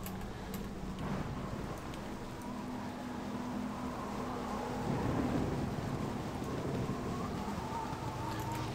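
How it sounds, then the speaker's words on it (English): Video game weather at daybreak: a steady, moderate hiss of rain with low thunder-like rumbling underneath, continuous and evenly spread, with no voices. "now the rain comes with daylight"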